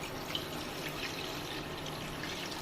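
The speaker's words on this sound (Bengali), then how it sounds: "এবার কড়ার মধ্যে আমি দিয়ে দেবো জল" Water is poured into a wok set on an induction cooker, a soft, steady, fairly faint splash and trickle that runs for the whole stretch without speech.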